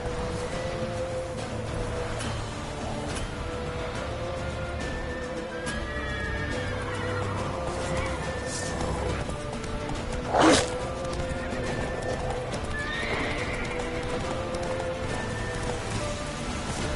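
Roach, a video game horse, snorts and whinnies amid steady rain and hoof clops, with a sharper neigh standing out midway over the constant patter.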